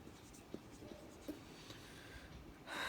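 Chalk or marker scratches across a board during a thermodynamics lecture, faint soft strokes with a couple of sharper taps under a low room hiss, ending in a brief louder rustle.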